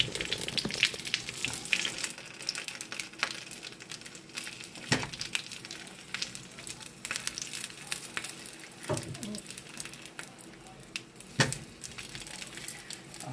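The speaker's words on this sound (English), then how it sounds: "so now we're going to start cooking our sausage, and I just put a little bit of vegetable oil in this skillet" Sausages fry in a little vegetable oil in a skillet, giving a steady close sizzle with scattered crackles and pops, and a few sharper clatters along the way.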